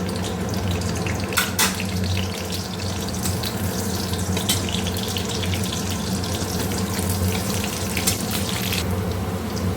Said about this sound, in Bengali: পেঁয়াজ হালকা ভাজা হয়ে গেছে